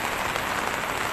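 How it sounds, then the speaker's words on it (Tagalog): Raindrops patter steadily on a rooftop at a pigeon racing loft in Bangar, La Union, a dense, even hiss with no talking over it. "pakinggan nyo yung patak ng ulan"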